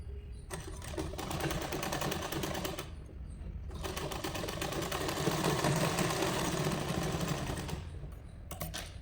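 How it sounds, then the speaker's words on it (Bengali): A sewing machine stitches tucks into a blouse, running in two long steady whirring stretches with a short pause between, then a brief final burst. "ভাঁজ করে এখানে যে মার্ক আছে সেই মার্ক পর্যন্ত আমরা সেলাই করে আসবো।"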